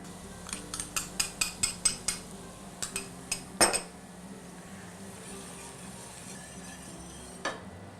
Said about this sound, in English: we're going to add our apricot preserves and orange marmalade